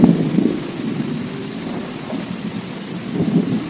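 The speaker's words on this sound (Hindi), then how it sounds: "अगले दिन बहुत तेज बारिश होने के कारण मौसम बहुत ही अच्छा होता है।" Heavy rain pours steadily while deep rolling thunder rumbles underneath, swelling at the start and again near the end, with no voices over it.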